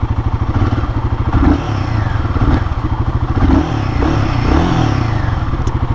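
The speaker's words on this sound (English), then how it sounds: "let's crank up the engine" A Royal Enfield Guerrilla 450 motorcycle engine idles with a steady, close thumping pulse, broken by a few short throttle blips that swell and settle back.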